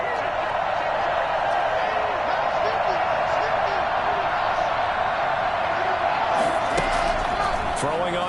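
A stadium crowd at an American football game roars in a steady, dense wash of cheering, with a commentator talking over the noise throughout.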